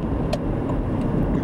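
A car driving over potholed ground, with a continuous low road rumble, a couple of sharp knocks and rattles from the bumps, and steady engine noise close by.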